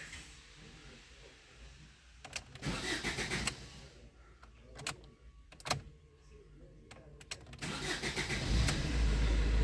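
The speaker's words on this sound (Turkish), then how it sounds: "Ve aracı çalıştırdık." A 2010 Fiat Linea's engine cranks and starts, settling into a mid-pitched idle with a few bursts of louder engine noise and a heavier rumble building toward the end, heard up close with no talking.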